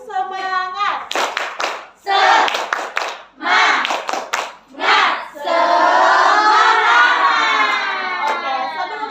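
A class of schoolchildren claps out a quick rhythmic spirit-clap pattern in bursts, then breaks into a loud, sustained group cheer or shout of voices.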